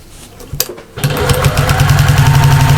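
A sewing machine stitching backpack fabric, with a couple of clicks first, then a loud, close, steady whirr of rapid stitching that carries on to the end.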